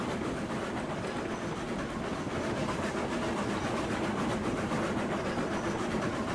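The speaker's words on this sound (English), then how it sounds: "This train does actually start getting pretty heavy." A heavy freight train rolling along in the RailRoads Online video game, a continuous loud rumble with rhythmic clickety-clack of wheels over rail joints, steady throughout with no speech.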